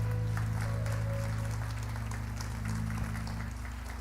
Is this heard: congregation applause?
yes